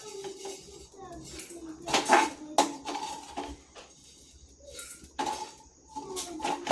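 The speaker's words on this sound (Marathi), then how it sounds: "आता आपण असं बंद बारीक गॅस करून अशा घोळून घ्यायच्या" Jowar (sorghum) grains are stirred in a pan over a low flame, giving irregular scraping and metallic clinks that swell and fade, with a voice talking in places.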